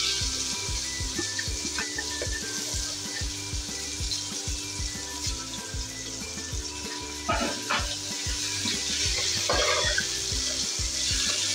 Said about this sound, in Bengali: এবার দিয়ে দিব রসুন কুচি। তার সাথে আমি একটু পেঁয়াজ কুচিও থেতলে নিয়ে এসেছি।